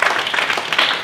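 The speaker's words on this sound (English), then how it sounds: "Round of applause," Applause from an audience at a startup selection day pitch event, a short dense wash of clapping that stays steady throughout without voices.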